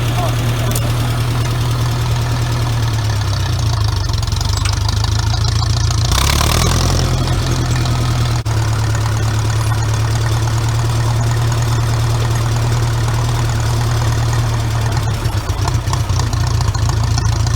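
A tractor engine idles steadily after a sluggish start on a weak battery, a loud low throbbing drone with a brief rev partway through while someone talks over it.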